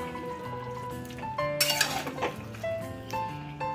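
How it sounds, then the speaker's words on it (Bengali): A metal spatula scrapes and clinks in a pan of prawn and jackfruit curry, with a clattering burst in the middle amid soft background tones. "একটু খুন্তি দিয়ে ঘাঁটা ঘাঁটা মতো করে দিই"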